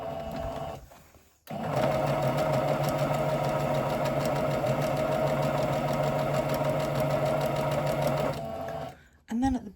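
A sewing machine back stitches through trouser fabric, its motor running in a steady close whir for several seconds after a short pause, then stopping, with a brief start at the end.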